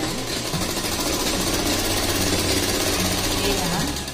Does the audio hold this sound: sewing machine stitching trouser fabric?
yes